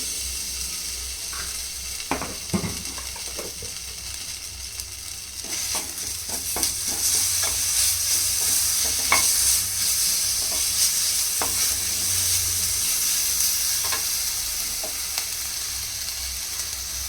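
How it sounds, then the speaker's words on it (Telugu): Onions fry with ginger paste in an AMC cookware pan, giving a steady hissing sizzle that swells midway, with scattered clicks of a spatula stirring close by. "ఆనియన్ ఫ్రై అయ్యాయి. ఇప్పుడు ఇందులో అల్లం పేస్ట్,"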